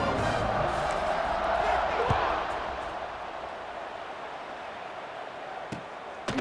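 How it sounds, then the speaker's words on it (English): Crowd in a college football video game stadium roaring ahead of the kickoff, a broad, sustained wash of cheering that slowly eases, with a few thuds and knocks over it. "They're set to kick it off, and this crowd now ready to get behind them."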